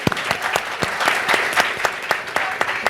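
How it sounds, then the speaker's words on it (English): Audience applause fills an advocacy event hall, steady and fairly close, with individual sharp claps standing out from the dense, continuous clapping. "Round of applause."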